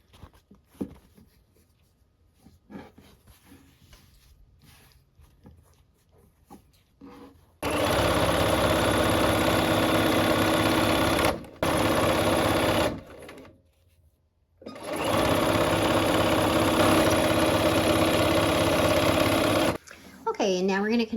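A sewing machine sews quilt blocks into rows, running loud and steady in two long stretches split by a brief stop, after a quieter spell of talking and handling.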